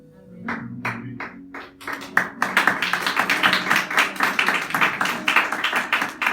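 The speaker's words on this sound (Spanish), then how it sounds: "gracias al hermano por aplaudir" A single person claps inside a church, starting with a few separate sharp claps that quickly build into fast, steady, close clapping.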